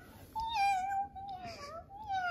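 A house cat gives a few drawn-out meows one after another, close and clear, with quiet room sound behind them.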